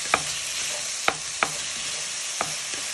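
Onions and garlic browning in a pan for a sweet potato lamb pie, a steady bright sizzle with a few sharp clicks of a utensil against the pan scattered over it.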